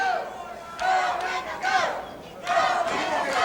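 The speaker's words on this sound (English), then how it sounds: "The crowd cheering for Wendell Cooley now." Wrestling arena crowd at a Mid South Wrestling match cheering for Wendell Cooley, a broad roar of many voices that swells in several waves.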